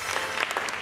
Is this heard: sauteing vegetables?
no